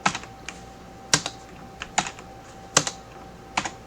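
Computer keyboard typing while writing Android app code, with irregular bursts of keystrokes and short pauses between clusters, close and clear with no talking.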